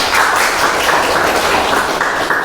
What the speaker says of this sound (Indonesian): beri aplaus untuk Mas Humam